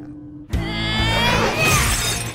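Glass shatters loudly in an animated Dragon Ball Z parody, a sudden crash after a brief silence followed by a long bright ringing scatter of falling shards.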